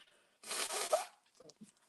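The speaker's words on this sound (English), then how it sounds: "I'm going to sneeze again" A single sharp, breathy sneeze bursts out close up, followed by a couple of faint sniffs or small sounds.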